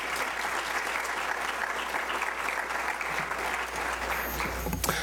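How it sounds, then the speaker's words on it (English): Steady applause from an audience at a university speakers forum event, a dense continuous wash of clapping lasting several seconds with no talk over it. "Can you round of applause for these folks for making this event possible?"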